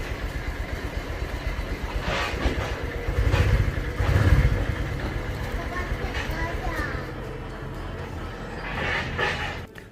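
A motorcycle engine fitted with a phone holder idles with heavy vibration, then swells in a couple of short throttle blips before settling, loud and close, with a voice talking over it.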